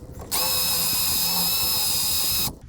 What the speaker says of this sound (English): See if we can drill this out.